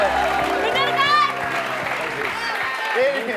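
Applause from a crowd, rapid clapping running under loud talk and laughter from people nearby, easing slightly toward the end.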